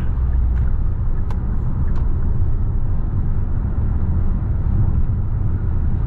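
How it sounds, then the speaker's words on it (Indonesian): Inside a Hyundai Palisade Facelift accelerating to overtake on a toll road, a steady low engine and road rumble fills the cabin, loud and continuous, with a few faint clicks and no speech. "Tuh, ini gas perempat doang, nyalipnya enak banget."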